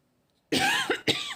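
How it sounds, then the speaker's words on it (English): A person coughs close into a microphone after brief silence, one long harsh cough followed by a shorter second burst, loud and near. "I didn't mean to cough in the mic"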